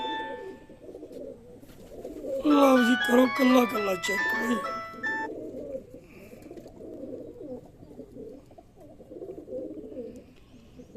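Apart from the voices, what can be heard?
pigeons cooing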